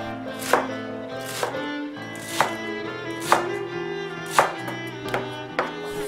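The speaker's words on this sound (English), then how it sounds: "I cut the garlic chives." A knife chops through garlic chives on a board for steamed chive dumplings, giving about eight crisp, evenly spaced cuts over a soft background hum.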